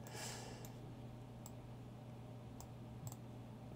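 A computer mouse gives a few faint, crisp clicks at irregular intervals while electronics are assembled on a breadboard, over a low steady hum in a quiet room.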